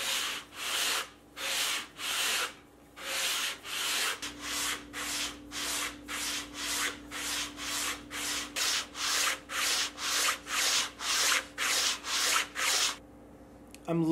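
Rhythmic back-and-forth sanding on a wooden Telecaster-style guitar body, steady even strokes repeating about twice a second, close up with no talking.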